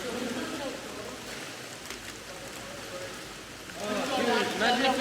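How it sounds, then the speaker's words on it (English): A waterfall at Den Finella, Scotland, roars as a steady, loud wash of water echoing under a tunnel, swelling near the end where faint voices come through. "You probably can barely hear me as well because the water. It's just really loud under this tunnel and really echoey."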